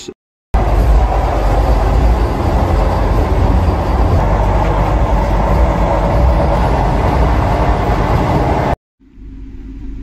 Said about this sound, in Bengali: আমাদের ট্রেন এখন এই খড়গপুর ছাড়লো